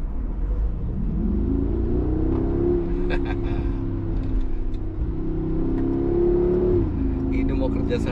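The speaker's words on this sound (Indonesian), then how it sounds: "saya tetap lebih suka dengerin suara knalpotnya yang di samping ini" Mercedes G63 exhaust rumbling steadily while driving, the engine note rising and holding at a low drone with faint cabin sounds and light talk over it.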